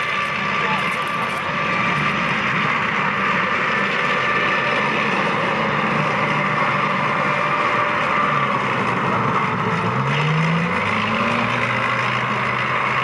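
An AMX-13 light tank drives past at speed at an outdoor tank display, its engine a loud, continuous roar with rising and falling pitch, while a person talks over it throughout.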